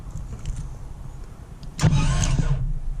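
A Toyota Land Cruiser FJ62, unrun for over ten years, cranks over on its starter in a short loud burst of about a second after a quiet lead-in, heard close up without the engine catching.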